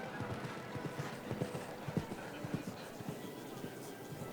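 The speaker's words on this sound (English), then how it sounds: "he believes in this beautiful black horse, Zagali." A black show jumper's hooves thud on the arena footing at an international show jumping event, with soft irregular clip-clops at moderate distance under quiet commentary.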